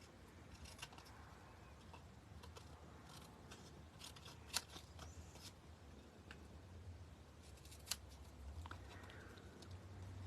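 Scissors trim excess paper from a handmade quilted woven star card, giving faint, quiet snipping and rustling throughout, with a couple of sharper clicks standing out.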